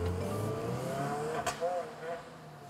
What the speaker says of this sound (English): That was called hitting the rev limiter, and only Paul could hit the rev limiter.